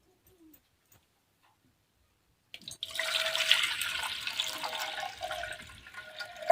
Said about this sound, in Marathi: दुसऱ्या पातेल्यात मी हे पाणी आता काढून घेते